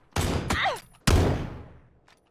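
Two loud rifle shots in a PUBG match with Win94 lever-action rifles, fired about a second apart, each with a sharp crack and a long fading echo tail.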